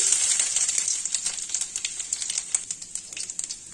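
Dried chili, bay leaf and cumin hitting hot oil while cooking chana dal with egg and cabbage, a loud close hiss that settles into steady crackling sizzle with small pops, no talk.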